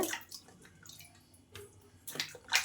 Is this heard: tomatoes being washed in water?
yes